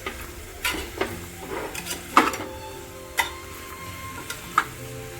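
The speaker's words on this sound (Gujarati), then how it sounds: "હવે એની અંદર આ ગાજરને હું સાંતળી લઈશ" Carrots being sautéed in ghee in a pan over a full gas flame, heard as a soft sizzle with stirring and the scrape and clink of the utensil against the pan in irregular bursts.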